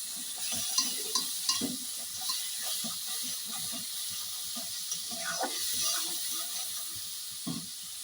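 Onion paste with mustard-peanut paste and black cumin fries in oil in a wok, giving a close, steady sizzle and hiss broken by scraping stirs.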